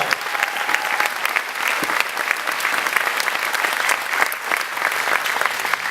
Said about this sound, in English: Let's give Missouri State Chorale one more round of applause.